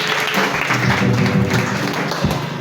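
A church congregation bursts into steady, loud applause for the word of the Lord, a dense wash of clapping that holds evenly for the whole stretch.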